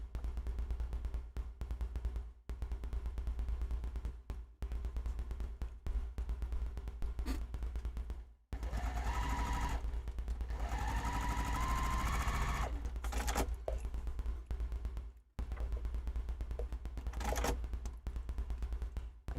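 A sewing machine stitches in steady rapid bursts, stopping and starting several times, with one longer, louder run in the middle and short pauses between the other runs.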